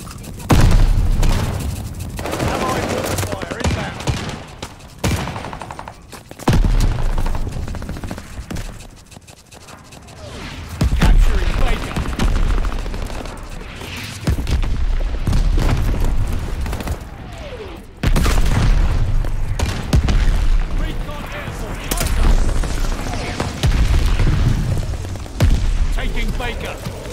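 Heavy gunfire and booming explosions from an incoming strike in a Call of Duty Vanguard multiplayer match on the Casablanca map, loud and dense in repeated bursts with brief lulls between volleys.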